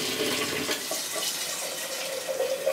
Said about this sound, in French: Ensuite, je vais remplir ça d'eau froide.